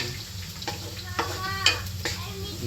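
Garlic sizzling in a pan for sautéed shrimp paste (bagoong), a steady fry with several sharp utensil scrapes and clinks over it, while a faint voice murmurs in the background.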